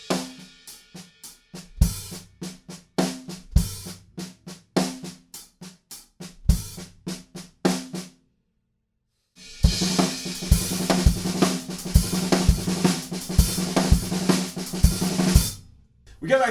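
Drum kit playing a song part: a sparse groove of punchy hits, a brief pause, then a dense loud section of crashing cymbals and driving beats.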